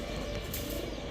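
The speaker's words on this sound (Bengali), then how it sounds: "সুন্দর কবুতরগুলা মাশাল্লাহ দেখেন" Giribaz high-flyer pigeons coo softly in a brief, low murmur, close by and continuous for about a second, with no voices over them.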